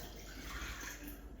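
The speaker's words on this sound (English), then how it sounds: "So I'm adding the water." A steady stream of water poured into a pot for a holiday mocktail, a continuous faint splashing gush heard alone without talk.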